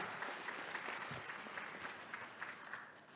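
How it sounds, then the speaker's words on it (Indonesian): Steady applause from an audience at an Islamic education association installation ceremony continues evenly throughout, dense and moderately distant, with a faint voice underneath. "Tepuk tangan buat semangat lembaga Islam."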